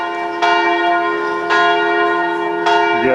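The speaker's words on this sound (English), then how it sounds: "here they're ringing the bell in this church for" A church bell rings for the noon service, loud and close, with three evenly spaced strikes whose rich ringing tones hang and overlap between blows.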